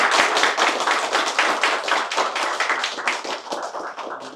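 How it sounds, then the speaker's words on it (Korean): Hearty applause closes a civil-society elders' emergency press conference, a few seconds of dense, close hand-clapping from a small group. "힘찬 박수로 마치겠습니다"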